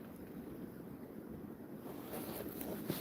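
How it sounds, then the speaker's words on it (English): Water trickles beneath a sheet of ice outdoors, a steady, soft wash of flowing noise mixed with wind buffeting the microphone throughout. "So neat to listen to the water trickle underneath the ice."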